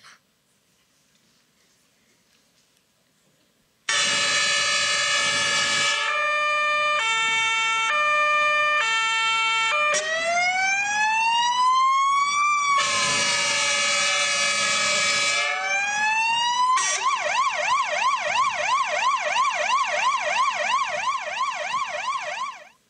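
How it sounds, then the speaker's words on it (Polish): A fire engine siren arrives abruptly after a quiet start and wails loudly and close for about twenty seconds, cycling through steady tones, rising and falling sweeps, and a rapid warbling yelp. "Po rozłączeniu się strażaka usłyszeliśmy po minucie syrenę."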